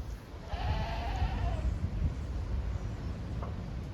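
A ram goat lets out a single wavering bleat at moderate distance outdoors, over a steady rumble of wind and background noise.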